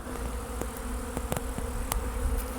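Steady buzzing of many bees close by, a continuous hum with occasional louder passes as insects fly near.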